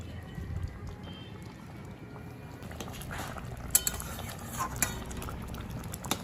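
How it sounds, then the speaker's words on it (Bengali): Potol dolma, stuffed pointed gourd, cooking in a pan as a garam masala paste is stirred in: a steady low sizzle with scraping and clinking of a spatula against the pan, growing busier toward the end. "গরম মশলাটা দেখুন খুব ভালো করে মিশিয়ে দিলাম"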